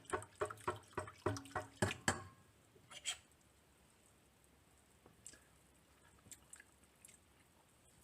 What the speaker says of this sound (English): We'll try stirring it from the bottom to the top.